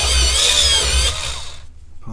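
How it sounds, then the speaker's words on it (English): A pencil sharpener grinds a pencil for about a second and a half, a dense steady whirring buzz up close and fairly loud, then winds down into quiet with a small knock at the end. "Let's see, I'm going to use the pencil sharpener."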